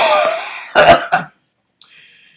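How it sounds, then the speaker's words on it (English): A short raspy sound opens, followed by two sharp, close coughs, then silence and a faint click. "there's that cough again"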